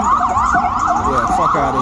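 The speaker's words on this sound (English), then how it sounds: "Here's the ambulance." An ambulance siren wails loudly and steadily with a rising and falling tone, close and dominant throughout, with faint traffic beneath.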